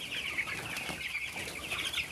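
Kienyeji chickens raised on a Kenyan farm make steady, overlapping high clucking and peeping, a dense close chorus with no pauses and no voices.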